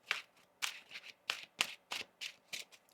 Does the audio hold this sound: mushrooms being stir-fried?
no